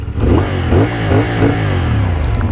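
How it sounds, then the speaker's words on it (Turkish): A CFMoto SR450 motorcycle engine idles and revs in repeated blips, a deep, full-bodied exhaust note close by and loud throughout, with no talking. "Şunu boşa alalım bir çalıştıralım bakalım. Sesini çok beğendim motorun."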